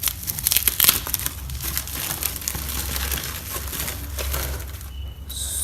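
A polythene layer is peeled off a budget action camera, giving continuous close crinkling and rustling of thin plastic with sharper tearing bursts early on, then a brief quiet gap near the end.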